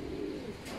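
Racing pigeons give a single short, soft coo close by, low and brief over a steady background hum.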